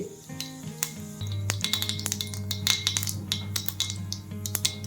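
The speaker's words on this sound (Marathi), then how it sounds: "मोहरी तरतडली आहे त्याच्यामध्ये घालूया आता हे अर्धा चमचा जिरे" Cumin seeds dropping into hot oil where mustard seeds are already spluttering, a busy crackle of sharp pops and clinks over a steady low hum, close and continuous.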